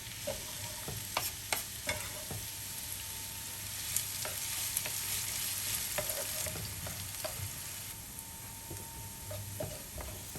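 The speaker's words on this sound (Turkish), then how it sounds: "bir adet doğradığım kuru soğanı da ilave edip kavurmaya başlıyorum" Chopped dry onions sizzle steadily in hot olive oil while a utensil stirs them, with scattered sharp clicks and scrapes against the pan throughout.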